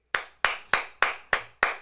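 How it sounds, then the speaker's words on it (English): A single person claps hands six times in a slow, even rhythm, sharp and close with short decays, alone with no crowd joining and no talking. "you made everybody clap"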